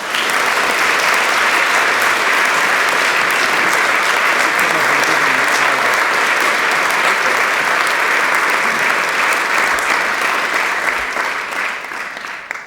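A chapel audience applauds to welcome a speaker, with loud, sustained, dense clapping from a large crowd lasting about twelve seconds before it tapers off at the end.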